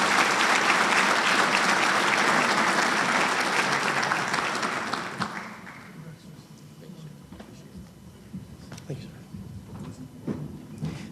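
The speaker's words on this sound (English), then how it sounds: "Please join me in a round of applause." A crowd at an awards dinner claps loudly for about five seconds, then the applause fades out into quieter room noise with scattered light sounds.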